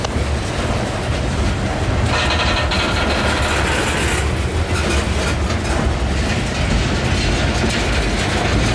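A CSX coal train with ES44 locomotives, two on the head end and a rear pusher, creeps slowly past, giving a loud continuous rumble with rattling wagons and clanking wheels close by throughout.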